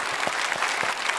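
A church congregation gives a burst of applause during a Sunday worship service, a dense, even patter of many hands clapping at once with no talk over it.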